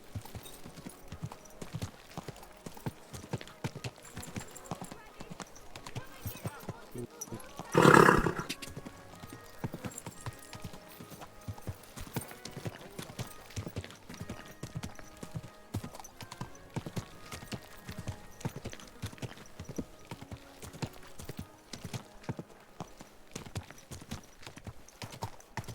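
Steady clip-clopping hooves of a horse in Kingdom Come: Deliverance II, continuous and moderately close, with a short loud whinny-like burst about a third of the way through.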